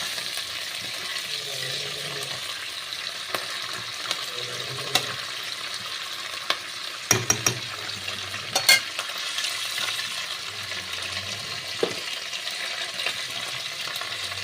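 Oil heating in a pan for a spinach dish with fish roe, a soft steady sizzle with occasional clinks and stirring taps of a utensil, no talk.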